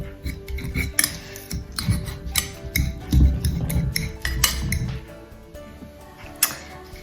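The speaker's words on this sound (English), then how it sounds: "So we're now just going to roughly mash this all up together" Stuffed flatbread filling being roughly mashed in a bowl, an uneven run of scraping, tapping and clinking of utensil against the dish, close and fairly loud, fading toward the end.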